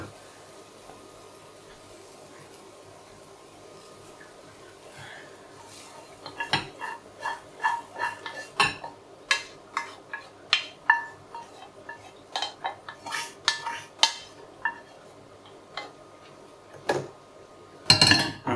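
Cooked-down mushrooms tipped from a pan back into a bowl in a home kitchen, a run of close, sharp clinks and scrapes of utensil against dish, fairly quiet and spaced irregularly with no talking.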